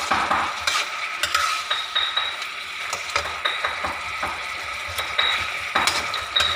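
Oyster-sauce stir-fry tossed in a pan: steady close sizzling with repeated scraping, clattering spatula strokes against the metal, rhythmic and busy throughout, no voices.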